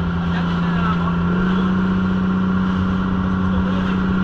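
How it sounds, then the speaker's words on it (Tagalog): Engine of a fishing boat running at speed on rough waves: a loud, steady mechanical drone with a constant low hum, close and unbroken, with wind and water noise mixed in. "Lakas kasi ng makina no, panghabol yun eh."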